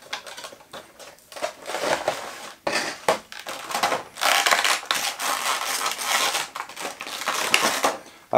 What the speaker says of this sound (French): Donc je vais tout de suite vous la déballer.